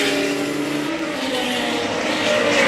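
A racing car at Goodwood's 75th Members' Meeting roars past on the circuit, its engine a loud, steady drone that holds for nearly three seconds and swells slightly toward the end.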